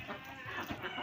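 Chickens clucking as they peck at feed on a farm alongside ducks, a close cluster of short overlapping clucks over a low background hum, with no talking.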